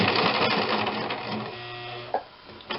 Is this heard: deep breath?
no